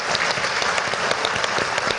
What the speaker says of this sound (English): And please, we have a round of applause.